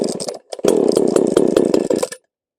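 A chainsaw engine with its carburetor fuel screw set too rich sputters and runs roughly for under two seconds after a brief cough, loud and close, then cuts out into silence.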